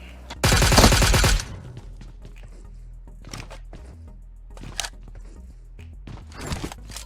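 PUBG video game gunfire: a loud burst of rapid automatic shots near the start, followed by scattered quieter single shots, thumps and footsteps.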